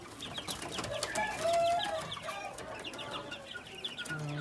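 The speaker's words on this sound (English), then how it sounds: "Bunch of wild little chickens here." Red junglefowl hybrid chickens, a mixed group of young chicks, stags and pullets, cluck and chirp in short repeated calls at moderate distance, with a low rumble of background noise.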